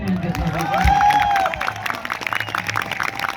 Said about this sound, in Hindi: उस गुरु का नाम लेना चाहता हूँ, मिस्टर डॉक्टर संजय उरांव के लिए जोरदार तालियों के साथ।